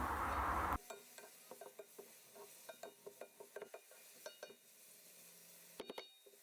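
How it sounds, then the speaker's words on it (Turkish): Onions sizzling as they sauté in a pan, with a utensil scraping and tapping at an irregular pace, close and fairly quiet, without talk. "Soğanları kokusu çıkana kadar kavuralım."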